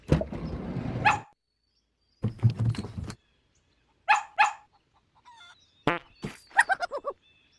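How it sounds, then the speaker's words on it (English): A few sharp dog barks in a kids' animal video game, in separate short bursts with pauses between them, loud and close, followed by a quick run of higher yips. "Dog."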